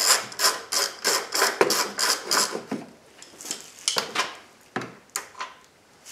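A ratchet undoes a strut nut on a 2006 Honda Odyssey, with bursts of rapid metallic clicking strokes, close and clear, pausing between runs.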